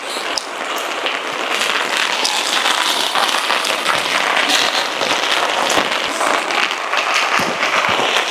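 Rain falls steadily and quite loudly for several seconds, a dense hiss with scattered sharper drops pattering on a surface, and no one speaking.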